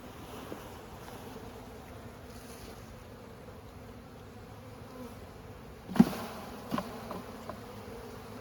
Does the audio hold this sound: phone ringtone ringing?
no